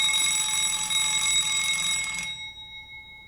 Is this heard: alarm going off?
yes